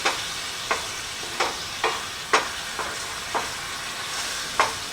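Glaze sizzling in a hot pan as it candies, a soft continuous hiss broken by repeated sharp spits and pops at irregular intervals, close and fairly quiet.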